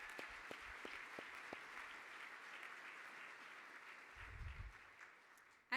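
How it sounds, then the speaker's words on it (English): An audience at a data conference applauds a speaker, a faint, steady wash of clapping with a few sharper individual claps early on, fading gradually toward the end. "Once again, a round of applause for Monica Villalobos."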